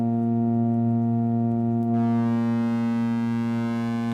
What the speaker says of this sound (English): now you can start hearing what the drive is doing as it's applying the distortion on that filter